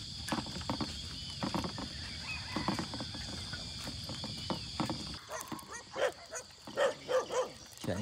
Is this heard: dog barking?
yes